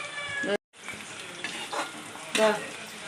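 Pakoda batter frying in hot oil, a continuous close sizzle and bubbling with a brief cut of silence early on and a few louder crackling flare-ups.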